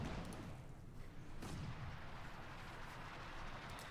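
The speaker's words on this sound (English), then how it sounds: "House collapses under withering artillery fire there from Bodye's 2 pack houses." Artillery barrage in Company of Heroes 2 as a house collapses, faint dense rumbling booms and blasts rolling continuously in the background.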